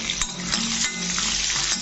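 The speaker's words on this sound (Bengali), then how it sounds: "তেল কিন্তু গরম হয়ে গেছে, এরপরে আমি একে একে মশলা অ্যাড করতে থাকব" Coriander and cumin fry in hot oil with a loud, dense sizzle up close, and a spoon stirs and scrapes through the spices without pause.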